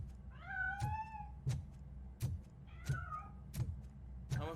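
A cat meows twice in the game RoboCop: Rogue City, drawn-out rising and falling calls heard close, set against a rhythmic low thumping background.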